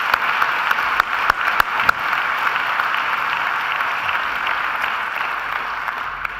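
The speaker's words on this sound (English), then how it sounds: "deserves another great round of applause" A university graduation audience at Macquarie applauds in a continuous, fairly loud wash of clapping, with a few sharper individual claps standing out early on before it settles and fades slightly.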